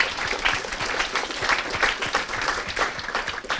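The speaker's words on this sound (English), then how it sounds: "please give another round of applause to the speakers" A conference audience at an energy forum applauds the panel speakers after a question-and-answer session, producing dense, continuous clapping that stays loud and steady without voices.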